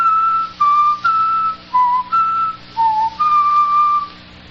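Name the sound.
person whistling notes of a musical theme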